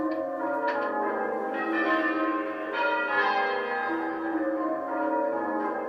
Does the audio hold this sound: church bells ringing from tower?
yes